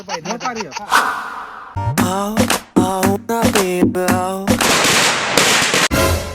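Diwali firecrackers bursting near a house, a rapid string of sharp loud cracks and pops with crackling bursts, mixed with voices and other noise.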